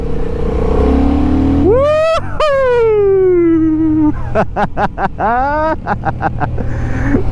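A Honda Hornet motorcycle engine revving hard while being ridden, rising and falling through quick-shifted gear changes with sharp bursts, loud and close, while a rider's voice talks over parts of it.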